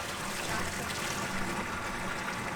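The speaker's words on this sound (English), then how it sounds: "I'm just going to be using cold hose water" Cold water pouring from a garden hose outdoors, a steady close rushing and splashing that runs unbroken at an even level with no talking.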